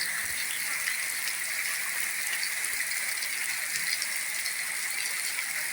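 Steady rain in Jaffna, Sri Lanka, hisses evenly and continuously, a dense close patter with no voices or breaks.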